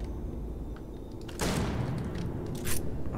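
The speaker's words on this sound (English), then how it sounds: "Okay, shooting it doesn't do anything." Gunfire in the Starfield video game: a sudden loud, sharp burst of shot noise, then a second, shorter blast a moment later over steady background game ambience.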